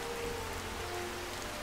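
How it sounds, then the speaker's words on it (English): Steady pouring rain in the open-world fantasy video game Skyrim Special Edition, a dense continuous hiss of drops on the ground with no talking over it. "in this pouring rain, but hopefully the weather will brighten up soon"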